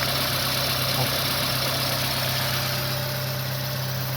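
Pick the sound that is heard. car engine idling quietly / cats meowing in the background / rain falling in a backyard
car engine idling quietly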